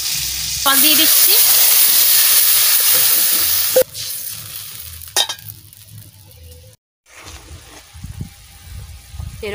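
Water poured into frying masala of ground ginger, dried chilli and cardamom bursts into a loud, steady sizzle with stirring scrapes, cut by abrupt clatters and a short silence, then quieter sizzling resumes in a home kitchen.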